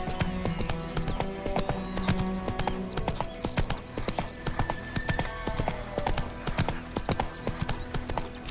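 Roach the horse runs in The Witcher 3, a steady rapid clip-clop of hooves with an occasional whinny, loud and close throughout.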